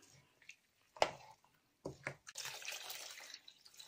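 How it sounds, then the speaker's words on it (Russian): Water trickles and splashes into a pot of beet soup, first in short faint bursts, then as a steadier pour filling it to the top, quiet and close. "Доливаю воду до самого верха."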